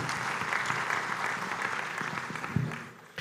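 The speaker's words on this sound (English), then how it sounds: "I would like to request if we could give them a hand of applause" Conference audience at an accountants' congress in Kigali applauding sponsors, a broad, steady round of clapping from a sizable crowd that fades out near the end.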